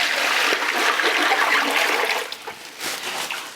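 Water pours and splashes into a double plastic bag pressed over homemade sauerkraut, a loud, steady gushing stream with a brief pause near the end.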